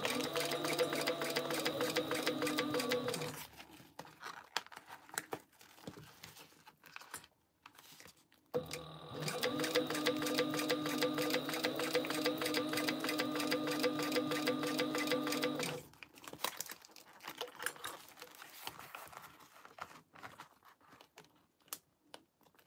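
Sewing machine stitching clear TPU vinyl, topstitching a zip pouch, in two long steady runs of rapid whirring punctuated by short pauses, close and clear, with a few faint handling clicks afterward.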